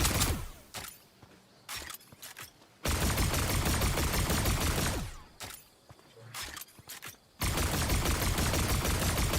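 Rapid bursts of pistol fire from a video game, loud dense volleys broken by short pauses and scattered single shots, with no one talking.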